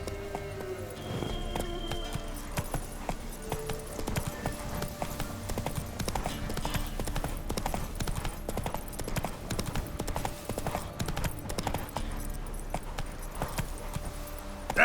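Steady hoofbeats from Roach, the horse in The Witcher 3, clip-clop continuously at an even walking pace, near and clear over a dense bed of game ambience and faint background sounds.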